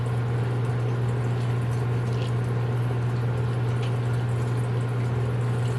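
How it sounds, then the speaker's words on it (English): Butter bubbling and boiling in a pan while browning for brown butter brownies: a steady, close, continuous sizzle and bubbling hiss with a constant low hum underneath, no talk. "you can see the bubbles are starting for the boiling"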